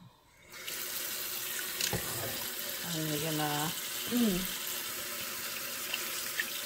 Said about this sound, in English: And then we put water in it.